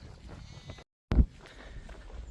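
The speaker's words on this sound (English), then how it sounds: "And the sheep are out enjoying the sunshine." A sheep bleats once in a sunny field along a long-distance trek, a single loud, close call rising out of steady outdoor wind and background noise after a brief dropout.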